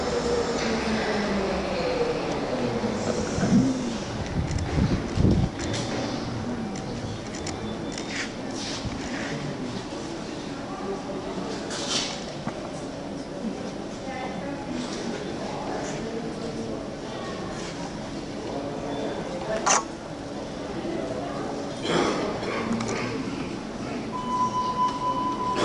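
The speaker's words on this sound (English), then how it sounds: "I'm just waiting for the train to go so I can take a photograph" A train runs through the Sternschanze area of Hamburg, a steady broadband rumble with rail noise and occasional clanks lasting throughout, mixed with street ambience and some voices nearby.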